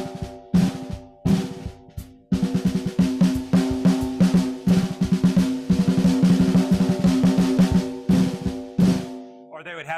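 An early traditional jazz drum solo played up close, with busy, crisp strokes in shifting rhythmic patterns, a couple of short pauses, and bright ringing overtones from the drums and blocks.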